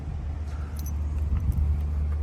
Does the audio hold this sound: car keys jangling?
yes